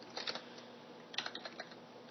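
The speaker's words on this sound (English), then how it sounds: "getting a little lazy with typing" Quick bursts of keystrokes on a computer keyboard while C# game code is written, two short clusters of close, light clicking separated by a pause.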